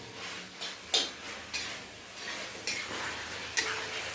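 Beef stomach fries in a pan under a steady, close sizzle, with a handful of sharp spoon scrapes and clacks against the pan at irregular intervals.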